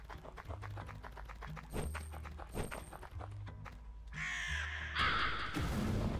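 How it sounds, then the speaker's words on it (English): Repeated crow caws from the LISA Definitive Edition video game sound in a rhythmic series over game music, with other game effects near the end. "Why did they change the crow noise?"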